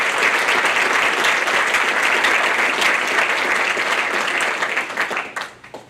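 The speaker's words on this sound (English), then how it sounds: "How about a round of applause?" A school hall of fame awards assembly audience claps for the senior inductees, dense loud applause filling the room steadily before tapering off and fading out in the last second.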